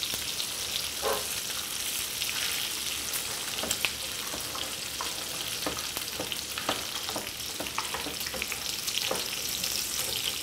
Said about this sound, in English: bacon has a lot of fat in it, so we're all very happy that's cooking off